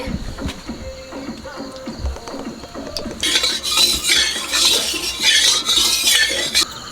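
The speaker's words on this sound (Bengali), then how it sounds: "টমেটো পেঁয়াজ মাংস কষা হবে সস তেল দিয়ে দিচ্ছি" Meat with tomato, onion, sauce and oil is stirred in a pan, giving soft scraping and clinking of utensil on metal that grows busier and louder after a few seconds, with a bright sizzling hiss underneath.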